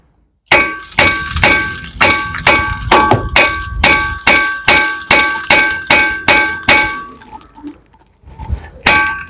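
A hammer taps out a stuck front suspension part on a Cadillac SRX during a shock replacement, giving a loud, rapid run of ringing metallic clangs that falls into an even rhythm, then a short pause and a couple more strikes.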